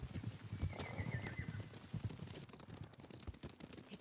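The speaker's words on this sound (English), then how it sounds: "Horses, they're coming for us." Horses approaching in Ghost of Tsushima, a busy clatter of hooves with whinnies and scattered sharp combat bangs mixed in, fairly loud and continuous.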